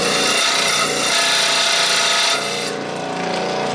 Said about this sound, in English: Okay, now for some filing